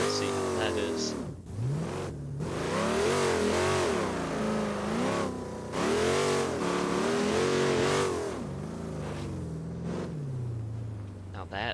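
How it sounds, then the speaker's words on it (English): A car in BeamNG revs hard through a 0 to 60 acceleration run, the engine climbing and dropping in repeated surges with gear changes, loud and close, with a voice talking over parts of it. "we're going to do some brake testing and some 0 to 60 testing"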